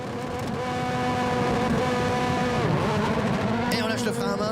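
A rallycross car at the start line of the Abbeville 2018 rallycross holds a loud, steady engine rev, with a commentator talking over it throughout.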